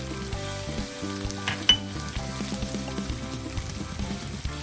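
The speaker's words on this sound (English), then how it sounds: "Pork is almost cooked. It's turning brown now." Pork sizzles and fries steadily in a pan with black pepper added, with a soft crackle and an occasional clink of a utensil. The sound is close and continuous, with no voices.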